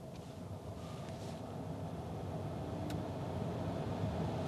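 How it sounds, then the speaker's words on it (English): A VW ID.3's ventilation fan runs on full inside the car, a steady, quiet whooshing airflow hum that rises slightly and then holds, with no talking. "I put the fan now on full."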